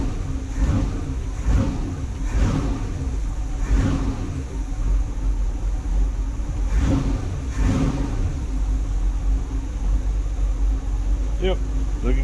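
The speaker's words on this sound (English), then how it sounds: "Shut her off, start her back up. Fires right back up." Inboard engine on a Bertram boat under restoration, shut off and restarted, then running steadily at idle with a few revving surges, loud and close, with someone talking over it.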